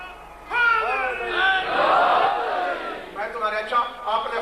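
A majlis crowd at a religious gathering raises loud chanted slogans in unison, a sustained rising and falling roar of many voices that swells, fades, then returns in shorter shouted phrases.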